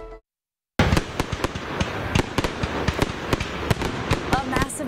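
Fireworks burst in a rapid, irregular barrage of loud cracks and booms after a brief silence, a dense Fourth of July display over Riverfront Park.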